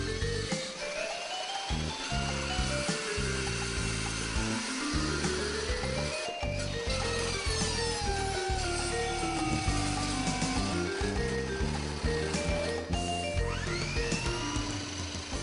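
A Japanese alloy saw blade cuts stainless steel with a loud, continuous high whine and ringing metallic tones that shift in pitch as the blade spins and bites, with no talk.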